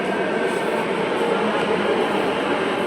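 A metro train rolls along with a steady, enveloping rumble and hiss heard from inside the carriage, continuous and even throughout.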